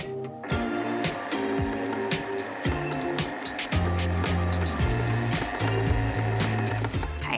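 Coconut syrup cake batter is whirred in a mixer, producing a loud close motor drone that shifts pitch in steps as the speed changes, with clattering against the bowl throughout.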